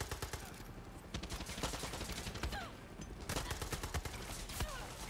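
A gun fires in Far Cry 6 in rapid, loud bursts of shots. The cracks come close together and run almost without pause.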